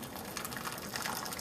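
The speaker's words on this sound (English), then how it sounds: "So I'm going in with boiling water" Boiling water pours steadily from a kettle into a hot water bath around an oven-proof dish of Caribbean Christmas bread pudding, a continuous close gushing splash with no talk.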